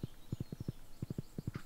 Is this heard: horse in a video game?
yes